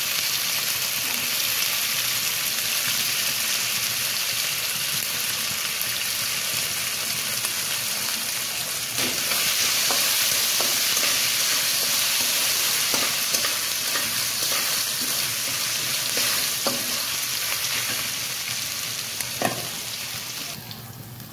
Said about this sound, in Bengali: আর আদা রসুনটা একটুখানি ফ্রাই করে নিয়ে